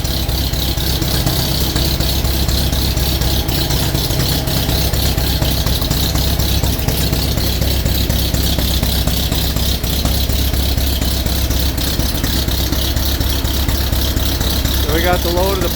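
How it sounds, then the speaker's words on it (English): A 1941 Farmall M tractor with a 12-volt Pertronix ignition runs on full choke after a cold start at minus eight degrees, pulling a heavy load from its power steering and hydraulic pumps. It holds a loud, steady, rattling engine drone throughout. "That is a heck of a load on that engine."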